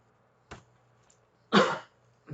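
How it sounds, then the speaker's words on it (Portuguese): Three coughs: a short one, then a louder, harsher one, and another starting at the end, with quiet between them. "Desculpa, pessoal, deu tosse."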